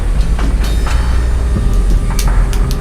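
A subway train rolls through an underground station in a video game, with a loud, steady low rumble and faint clacking of wheels throughout.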